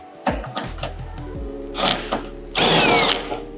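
A power tool backs out a 10mm bolt at the front of the fender on a 2015-2021 Subaru WRX/STI, with two brief whirring bursts, the second longer, over quiet music.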